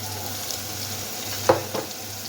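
Green ground masala paste drops into a pan of prawns frying until reddish, a steady sizzle with a sharp hiss and a second stir clatter near the end, no talking.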